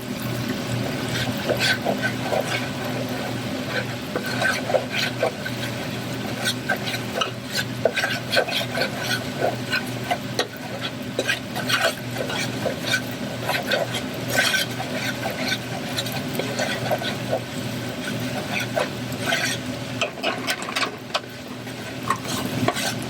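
Curry sizzles and fries in a hot pot while being stirred steadily, with constant crackling hiss and frequent scraping stir strokes close up throughout.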